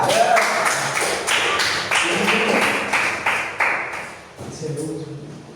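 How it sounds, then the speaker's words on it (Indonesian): Students in a high school history class clap their hands together in a series of sharp, evenly spaced beats, loud and close, fading into a voice speaking near the end. "Tepuk tangannya untuk kalian semua."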